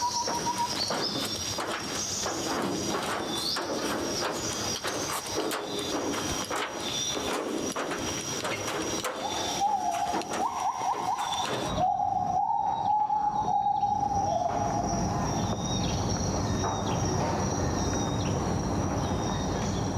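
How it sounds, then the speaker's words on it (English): Borneo rainforest dawn chorus: dense layered calls of many birds with insect-like buzzing and gibbon-like whoops, continuous and full throughout, with a sustained warbling call rising more clearly after midway. "this is dawn now, all the birds calling, including some of the gibbons"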